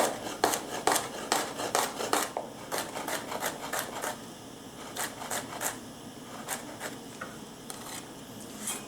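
Rapid knife chops slicing asparagus into coins on a cutting board, a quick irregular series of crisp taps close up, slowing toward the end.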